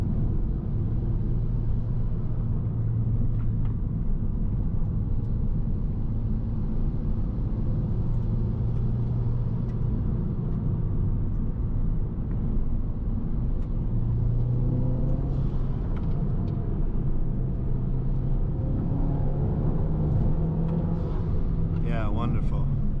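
A Mazdaspeed 3 with Corksport high-pressure fuel pump internals and a new tune, accelerating in third gear, giving a loud, steady engine drone with rising pitch heard from inside the car, while people talk over it.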